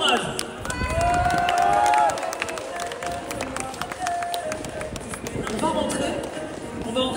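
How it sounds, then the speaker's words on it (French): A crowd at a cosplay parade during the Troyes Japan Otaku Festival applauds and cheers, a busy wash of clapping and voices with whistles and shouts rising and falling throughout. "Vraiment les applaudir encore une fois et bravo pour leur courage"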